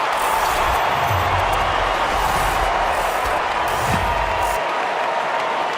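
Collingwood supporters cheer at an AFL football match against the Brisbane Lions, producing a broad, steady stadium crowd roar that swells and then cuts off abruptly near the end.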